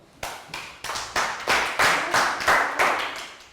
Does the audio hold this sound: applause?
yes